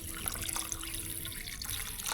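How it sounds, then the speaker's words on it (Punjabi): Water trickles and splashes steadily onto rice being washed in a kitchen, a soft continuous pouring close by with no talking. "ਚੌਲਾਂ 'ਚ ਆਪਾਂ ਪਾਣੀ ਪਾ ਕੇ ਰੱਖਾਂਗੇ ਧੋਣ ਵਾਸਤੇ"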